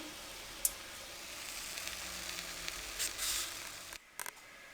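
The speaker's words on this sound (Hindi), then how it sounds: "अब इसी तरह हम तमाम फ्राई कर लेंगे।" Chapli kababs deep-fry in oil with a faint, even sizzle and a few small clicks and taps, ending in a short pause.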